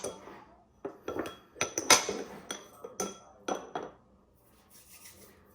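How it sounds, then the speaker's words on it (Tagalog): A utensil scrapes and clinks against a bowl while chocolate chip cookie dough ingredients are mixed, giving irregular knocks and rubs close by, with no talking. "So now we're going to mix them all together"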